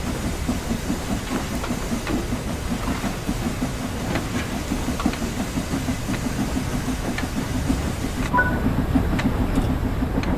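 A steam locomotive in a train simulator game pulls away, giving a loud, steady rumble with rhythmic chuffing and rail clatter under a hissing wash of steam.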